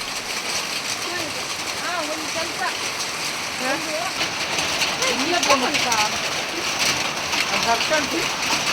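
Heavy rain pours down in a steady, dense roar in a Malnad village near Koppa, Karnataka, while voices talk over it nearby.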